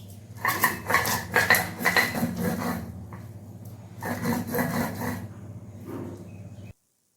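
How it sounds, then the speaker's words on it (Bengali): Mustard, poppy seed and green chilli ground by hand on a flat grinding stone for banana-flower paturi, a close, rhythmic scraping and rubbing in repeated strokes with brief pauses between bursts. "এটাকে আমি শিলে বেটে নিচ্ছি"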